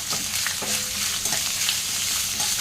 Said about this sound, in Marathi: त्याच्यानंतर ॲड करूयात हा उभा चिरलेला कांदा परतून घेणार आहोत चांगला